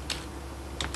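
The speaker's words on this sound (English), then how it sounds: "So I type in my username" A few quick keystrokes on a computer keyboard while a username is entered, two short clusters of clicks, close and fairly quiet, with no talking.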